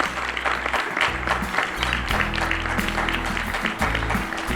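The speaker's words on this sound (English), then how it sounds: "Let's give a round of applause for our student panel here." Audience at a university event applauding a student panel, a steady spread of clapping over a low background hum and room rumble.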